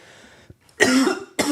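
Two close, harsh coughs in quick succession, the first longer and raspy, the second cut short, with a faint sound beforehand.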